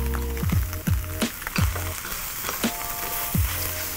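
Beef, shredded cabbage and carrot stir-frying in a wok give a crackling sizzle, broken by several sharp clanks or tosses of the pan and a low background hum.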